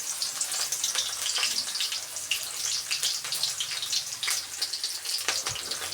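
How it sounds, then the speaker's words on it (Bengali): Chopped onions sizzling in hot oil while cooking chicken curry, a steady bright crackling hiss with no talk over it. "পেঁয়াজ দিয়ে দিলাম।"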